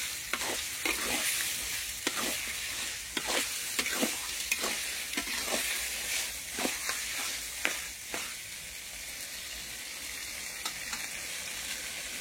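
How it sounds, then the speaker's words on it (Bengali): Chicken curry meat is stirred with a spatula as it fries in a pan, giving a steady sizzle broken by repeated scraping strokes at an uneven rhythm, close and clear with no talking. "এখন এটাকে কষতে থাকবো যতক্ষণ না মাংসগুলো গলে যাচ্ছে, ততক্ষণ এভাবে খুন্তি দিয়ে নাড়তে থাকতে হবে"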